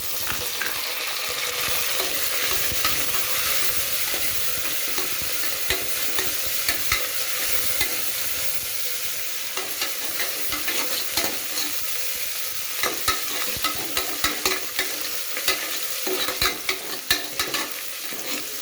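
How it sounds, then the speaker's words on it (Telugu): Sliced onions frying in a pan while being stirred, a continuous loud sizzle broken by frequent scraping and clattering stir strokes, close up with no talk. "ఎర్రగడ్డ అయితే దోరలుగా వేగింది"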